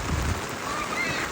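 Steady rain patters and hisses nearby, a dense wash of drops with no voices over it.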